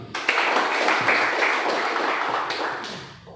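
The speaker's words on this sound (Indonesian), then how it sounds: "Tepuk tangan." Crowd applause at a Pemuda Pancasila organisation gathering in Batam, a dense, steady wash of many hands clapping that holds loud for about three seconds before tapering off.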